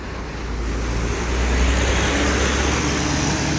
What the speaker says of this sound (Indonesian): Ya ini bus El Dipo keluar dari terminal menuju ke sini ya.